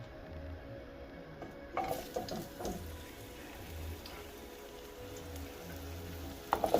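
Diced potatoes go into a hot skillet, giving a quiet, steady sizzle with a few soft clinks and scrapes, and no talking.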